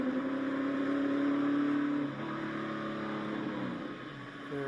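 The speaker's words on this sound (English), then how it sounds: "You can hear that engine go silent." A NASCAR stock car engine at the 2017 FireKeepers Casino 400 leaving pit road hums loudly with a steady tone, then drops sharply after about two seconds to a lower, quieter drone as the driver lifts off to save fuel.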